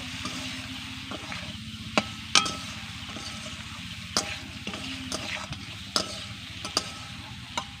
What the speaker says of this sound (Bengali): এবার সব কিছুকে ভালো করে মিশিয়ে নেব